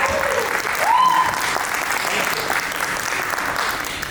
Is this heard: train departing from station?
no